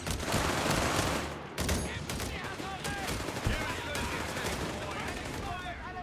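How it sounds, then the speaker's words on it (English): Heavy machine gun fire crackles in the Company of Heroes 3 video game amid a busy battlefield din, sustained rattling bursts with scattered impacts, fairly loud throughout. "quickly being hammered down here with the heavy machine gun fire"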